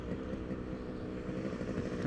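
A Yamaha RX 100 motorcycle engine drones steadily and loudly, with a rough, buzzing, continuous note and no voices.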